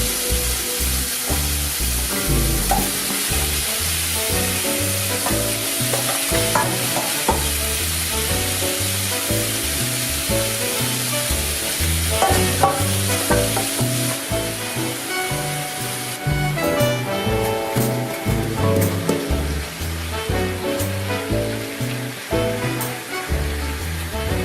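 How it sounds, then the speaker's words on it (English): Beef for gyros sizzling on a hot grill over medium-high to high heat, a loud, steady, crackling fry that carries on throughout with no talking. "we're ready to start cooking this meat"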